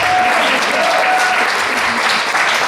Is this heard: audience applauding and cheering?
yes